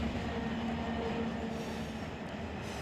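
A long freight train of 69 cars backing up in the Run 8 Train Simulator III game, a steady low rumble of rolling railcars with faint wheel noise and a thin squealing tone, no talking.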